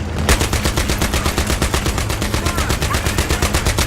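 A tank-mounted machine gun in Battlefield 3 fires a long, unbroken stream of rapid, evenly spaced shots, loud and close, with no voices over it.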